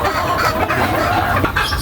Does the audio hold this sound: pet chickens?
yes